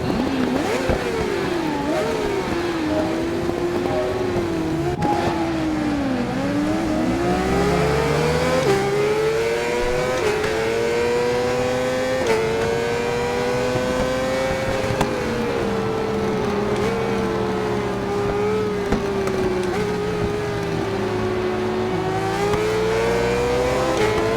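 A 2017 Vyrus 986 M2 race motorcycle in RIDE 4 at Suzuka GP, its engine screaming close and loud, pitch rising and falling through gear changes and corners, with the revs held high almost throughout.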